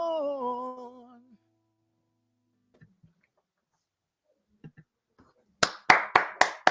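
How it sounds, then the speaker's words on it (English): One person claps hands after a sung note fades, a short run of about five sharp, close claps in steady rhythm following near silence and a few faint taps. "I'm your one person clap audience, clapping for everybody"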